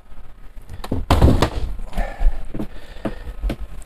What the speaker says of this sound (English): and a drawer for larger items underneath